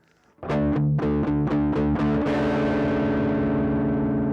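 Distorted Gibson Custom Shop CS-356 electric guitar, both pickups on and controls full, plays a chugging run of repeated palm-muted chords, then lets a full chord ring out loud and sustained.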